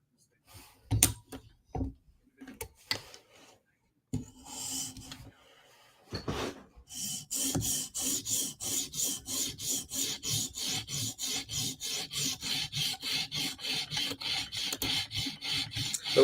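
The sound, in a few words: knife sharpening passes on 150 stone, TSProf Kadet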